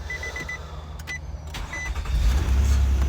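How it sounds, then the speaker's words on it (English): A car's push-button start begins with a few short electronic chime beeps and clicks, then the engine catches about two seconds in and settles into a louder steady idle rumble. "Then you push the start button, put your foot on the brake."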